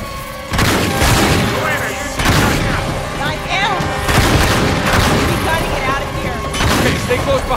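Repeated gunfire and heavy booming blasts from the action game Uncharted 3, loud bursts of shots and impacts recurring every second or two with voices talking over the fighting.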